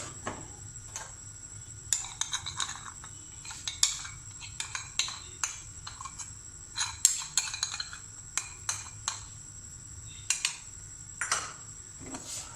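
Condensed milk being mixed into a Doodh Dulari dessert with a spoon in a metal pan, producing a steady run of close, bright clinks and scrapes at an uneven rhythm, with no voices.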